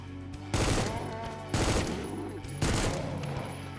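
Gunfire aimed at the player in a shooter game comes in three separate bursts of rapid automatic shots, each about a second long and evenly spaced, at moderate volume with short quieter gaps between them.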